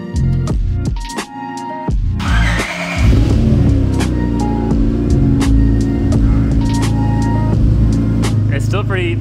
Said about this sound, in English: It's still pretty loud on the cold start.